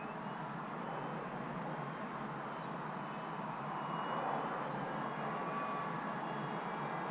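A battery-powered RC Harrier model airplane flies overhead, giving a steady, moderately distant airy whine and rushing drone that holds evenly throughout.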